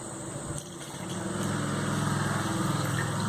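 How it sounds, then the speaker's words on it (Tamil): A mixer grinder blending an iron-rich milkshake with milk, a steady motor whir that rises and settles into a loud, constant drone, with no voices. "இப்போ இதை நல்லா கிரைண்ட் பண்ணி எடுத்துக்கலாம்."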